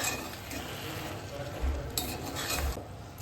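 A spoon scrapes and stirs through bottle gourd and dal in a pan, with a soft sizzle underneath and occasional light clinks of metal.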